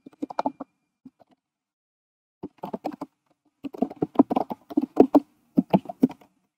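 Keys clatter on a computer keyboard as an address is typed into a search bar, a short burst of taps, a pause, then a longer run of quick, close keystrokes.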